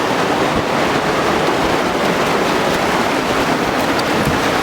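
A fast, flooded river rushing beneath a log crossing, a loud, dense, unbroken roar of churning water heard up close, steady throughout with wind buffeting the microphone.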